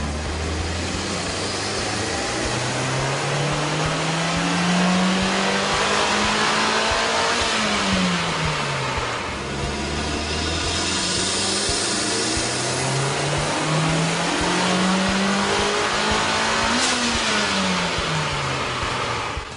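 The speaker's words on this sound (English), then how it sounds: "we ran the vehicle on the dyno to test the sound comparison versus the stock intake" A Mitsubishi Evo engine fitted with a K&N 69 Series Typhoon cold air intake revs repeatedly on a dyno, pitch climbing through the range then dropping back, loud and close with a steady intake roar.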